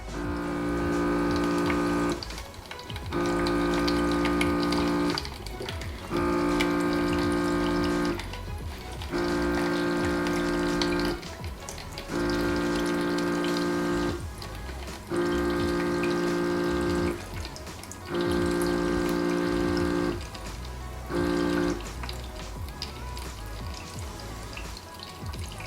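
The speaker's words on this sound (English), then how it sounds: "If you guys press on water, it starts to dispense the water out" A Baby Brezza Formula Pro Advanced WiFi dispenser pumps water in about eight regular humming bursts separated by short pauses, close and moderately quiet, with no talking.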